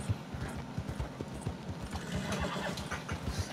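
A horse's hooves clip-clop in a quick, steady rhythm at close range, with neighing mixed in and a faint engine hum in the background.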